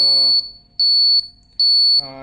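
An electronic buzzer driven by an ARM7 microcontroller beeps in two long, piercing tones with pauses between, loud and close, with a voice talking at the start and end.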